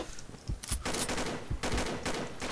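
Rapid bursts of automatic gunfire from the Combat Arms shooter game, several clustered volleys of sharp shots in quick succession over a couple of seconds, close and fairly loud with no talking.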